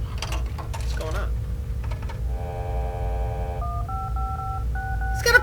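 A payphone in Serious Sam is dialed, giving a run of steady electronic tone beeps, first a long held tone and then short paired dialing tones, over a low background hum.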